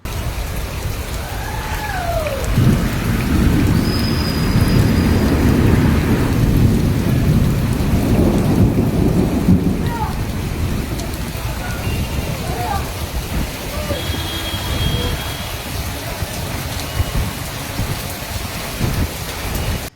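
Steady heavy rain pours throughout in Sira, with low rumbles of thunder rolling in the first half; a few faint voices and whistles drift in the background.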